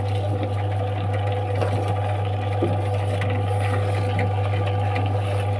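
A wet grinder churns dosa batter with greens, producing a constant loud mechanical drone with a strong low hum and a faint rolling, sloshing texture, steady from start to finish.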